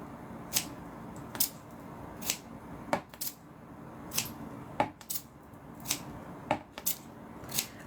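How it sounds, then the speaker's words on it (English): Scissors snip through extra pieces of tape, giving a steady run of about a dozen sharp, close cuts at roughly even intervals over a quiet room background. "I'm going to cut a couple extra pieces of tape"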